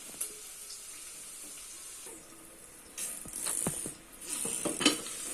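Breakfast food frying in a pan, faint sizzling and crackling with soft stirring scrapes and a few sharp clicks, growing louder toward the end.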